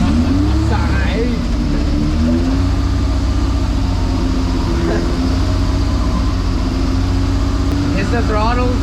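A twin-engine Suicide MX3 race car runs on a dyno, its engines holding a loud, steady drone with a few rising revs, very close, while people talk over it.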